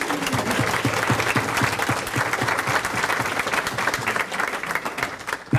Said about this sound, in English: join me in a great round of applause for Patrick Teff for putting on this amazing event